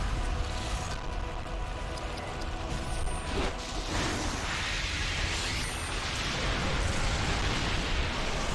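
A Balrog's fire attack in the Lord of the Rings: The Third Age turn-based RPG, a loud roaring blast of flame with crackling bursts and a whooshing surge midway, dense and sustained throughout.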